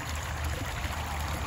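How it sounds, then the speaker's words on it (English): Water pours steadily from a garden pond's filter pump outlet, a continuous close wash of trickling and splashing with no breaks. "It pumps out water, and then the other end is in here."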